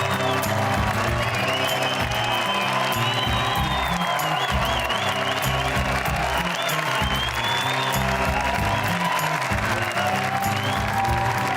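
A TV studio audience at The Recruit live final breaks into long, dense applause with cheers and whoops for the host's entrance, loud and sustained throughout while music plays underneath.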